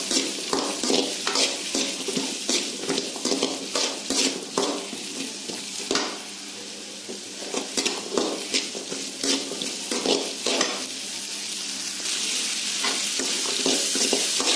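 Onions sauté in a pan for chickpea curry. A spoon scrapes and taps against the pan in a busy, irregular rhythm over a continuous close sizzle, and no one speaks.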